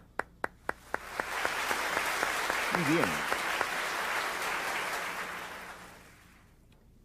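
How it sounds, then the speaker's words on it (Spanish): Applause from a Bellevue Baptist church congregation, opening with a few sharp separate claps that swell into sustained, fairly close clapping before fading out, with a brief voice speaking over it. "Denle un aplauso"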